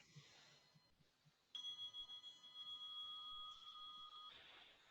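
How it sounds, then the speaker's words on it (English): A single bell rings out clearly with a sustained shimmering tone that slowly decays over several seconds, preceded by quiet background noise. "Can you hear the bell?"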